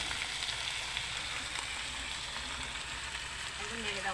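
Pond fish curry frying in a pan over a wood fire, a steady soft sizzle and crackle running throughout at low level.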